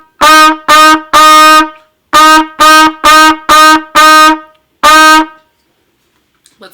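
A beginner trumpet plays a run of eighth-note Fs, nine clear, evenly tongued blasts in a short pulsing row, loud and close, with no talk.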